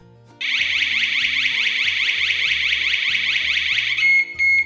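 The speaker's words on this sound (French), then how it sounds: "le bouton en bas à droite, dit bouton SOS, déclenche la sirène à tout moment." A loud, continuous electronic siren from a SEDEA home alarm system, triggered by its SOS button, wails in a rapid warbling pattern for several seconds, then cuts off, followed by a couple of short beeps.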